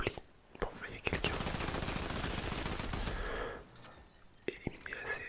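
Rapid automatic gunfire bursts while shooting an enemy in the video game Fortnite, a dense sustained volley of several seconds bracketed by softer clicks and taps, close and fairly loud.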